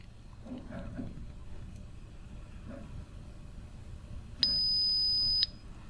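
A steady 5,000 hertz test tone from a small speaker driven by an Arduino piano project sounds for about one second, a piercing pure whine that starts and stops abruptly over faint room noise.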